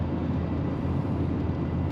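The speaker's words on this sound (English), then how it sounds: "I've got the heat blowing, the blower motor works." Steady, even whoosh of the heater blower motor running inside a 1994 Chevrolet Silverado C3500 dually extended cab truck, a constant airy rush with no talking.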